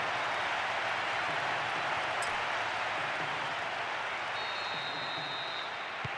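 A huge stadium crowd roars and cheers during an Asian Cup match in Pro Evolution Soccer 2010 on PlayStation 2, a dense, steady wash of noise holding at one loud level throughout with no voices standing out.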